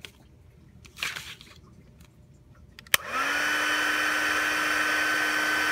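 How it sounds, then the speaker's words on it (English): A heat tool blowing on embossing powder switches on with a click and settles into a steady, loud whirring blast after a brief rustle, close and alone. "we're going to bring in our heat tool"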